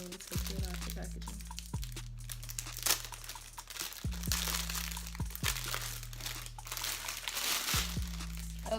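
Crinkling plastic packaging being handled and opened around silk hair bundles, in bursts of crisp crackling with thumps as it is pulled at, close and fairly loud under intermittent talk.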